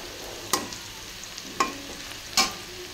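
Onion stalks and potatoes frying in oil make a soft continuous sizzle, broken by three sharp scraping clacks of a spatula stirring the pan, with no voices.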